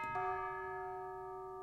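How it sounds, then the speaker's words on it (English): A single tubular bell struck from a Spitfire BBC Symphony Orchestra VST in Ableton Live, one clear bright strike ringing out with a long sustained decay, alone and fairly soft. "Okay, so tubular bells,"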